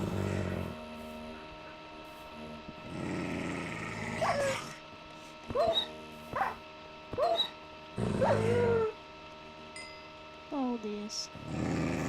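In a Minecraft game, a dog growls softly and then gives several short, evenly spaced barks and whimpers over a background hum, with quiet stretches between them.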